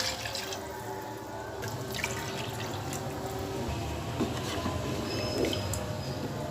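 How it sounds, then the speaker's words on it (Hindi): Water poured into a pot of chicken curry gravy as it cooks, a steady low splashing and bubbling wash with a few faint drips, continuous and fairly quiet throughout. "अब इसमें हम डाल देंगे 2 कप पानी।"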